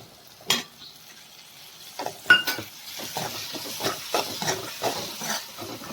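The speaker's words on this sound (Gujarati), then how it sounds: "હવે તેમાં આપણે થોડી હિંગ એડ કરીશું હિંગને તેલમાં શેકી" Asafoetida sizzles in hot oil with garlic and chillies for dal tadka, a steady frying hiss broken by sharp clinks of a spoon against the pan.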